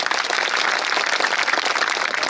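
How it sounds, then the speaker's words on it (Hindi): Applause from an audience at a Hindi poetry recitation, a dense, steady wash of many hands clapping throughout, fairly loud and alone without talk. "वाह बहुत बढ़िया, जोरदार ताली"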